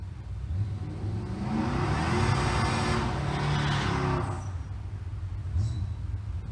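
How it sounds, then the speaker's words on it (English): A square-body pickup truck does a burnout in the right lane at a drag race, its engine roaring loud and sustained with a rising, hissing swell of tire noise before settling back down. "Curtis Tanky does the burnout in the right lane with his square body truck."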